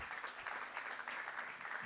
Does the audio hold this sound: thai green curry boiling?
no